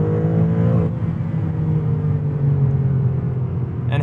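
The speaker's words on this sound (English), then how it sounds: "And having a twin turbocharged engine rev all the way to 8K is glorious" A 2023 Maserati MC20 Cielo's twin-turbocharged engine droning loudly and close, its steady tone shifting slightly in pitch under load, with a short burst of noise at the end.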